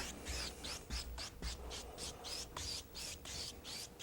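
Light, steady brushing strokes across a painting surface, a soft rhythmic rasp repeating about twice a second, quiet and close with no talking.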